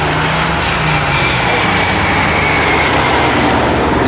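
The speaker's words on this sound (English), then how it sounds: "that pro charger sound crazy" A ProCharger-supercharged car engine at a car meet gives off a loud, steady, airplane-like roar and whine that fills the whole stretch without a break.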